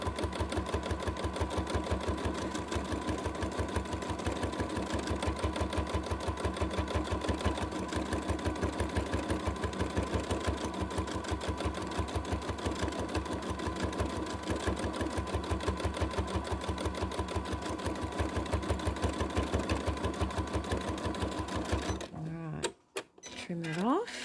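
A sewing machine runs continuously during free-motion quilting, a close, steady whirring hum with rapid needle ticking, ending in a brief stop with a few clicks and handling noises.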